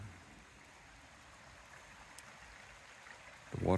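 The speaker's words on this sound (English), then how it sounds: "if you can hear the water" Soft, steady rush of flowing stream water, distant and low, with a brief louder disturbance right at the end.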